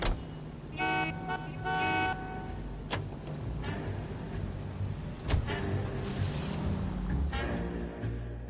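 A car driven in the video game L.A. Noire, with steady engine and road noise running throughout, a couple of short horn toots near the start and scattered clicks and bumps along the way.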